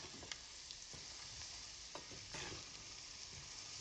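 Onions with chili powder and turmeric being stirred in a frying pan, a steady soft sizzle with a few scraping spoon strokes against the metal, close and moderately quiet.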